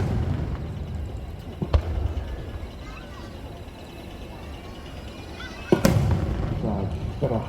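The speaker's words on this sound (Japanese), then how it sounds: "ここからは打ち上げ花火をご覧いただきますよ" Aerial fireworks burst at the Nagashima Onsen display, one dull boom early and a sharper, louder crack a few seconds later, set against a low, steady outdoor rumble.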